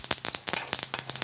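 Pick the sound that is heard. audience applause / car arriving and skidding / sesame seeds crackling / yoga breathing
sesame seeds crackling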